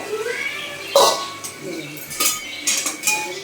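A metal lid is lifted off a cooking pot of softened onions for a mutton curry, giving a sharp clink followed by a few lighter clatters of kitchenware, with a voice talking nearby.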